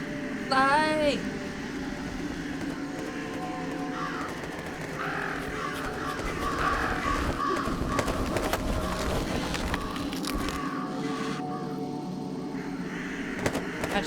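Crows in the Jenny LeClue video game caw in a short burst near the start, followed by clattering mechanical game sounds and a steady ambient hum, with a voice talking over parts of it.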